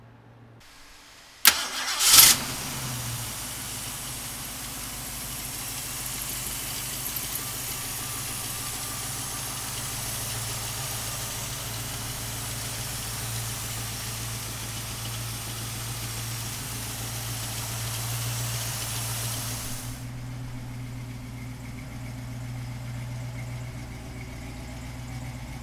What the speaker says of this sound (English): come on up and we'll fire this baby up